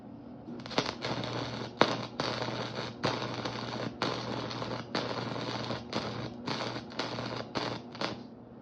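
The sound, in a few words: MIG welding rebar with wire speed set too fast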